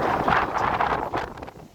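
Strong wind gusting up to 40 mph buffets the microphone at a sandy campsite in a rough, rushing burst that gradually eases off.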